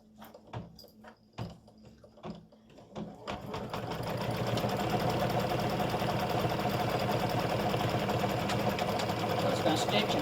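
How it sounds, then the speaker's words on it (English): An embroidery machine sews a quarter-inch seam on an in-the-hoop mug rug panel, running as a steady, loud, rapid stitching whir after a few seconds of scattered taps and brief talk. "it's going to stitch a 1/4 inch stitch for"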